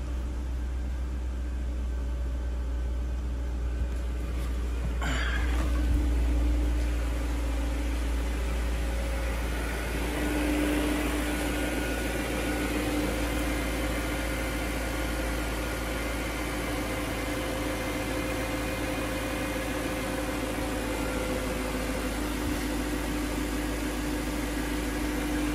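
A 2000 BMW E38 sport after a cold start, settling into a steady close idle with a low rumble and faint mechanical whine, a brief rev-like swell early on, then even running throughout.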